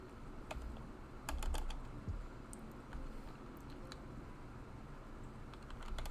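Computer keyboard keys clatter in quick, uneven bursts of clicks, close and fairly quiet, with no voices over them.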